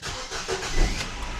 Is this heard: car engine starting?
yes